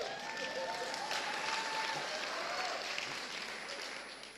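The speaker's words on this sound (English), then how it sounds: "It's great to get an applause for doing absolutely nothing" An audience at a Java conference keynote gives soft, continuous applause, a hushed wash of many hands clapping at a distance that slowly tapers off.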